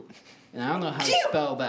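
One person sneezes sharply and close up in the middle of conversational talk during a casual spelling game among friends, with voices continuing right around it.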